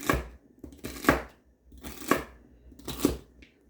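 A knife slices food into even pieces on a cutting board, cutting with four firm strokes at a steady rhythm of about one per second. Each stroke is close and clear, with quieter scraping between them.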